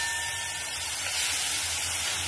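Onion paste frying in hot oil for a crab curry, a steady soft sizzle and hiss that stays even and close throughout, with no talking.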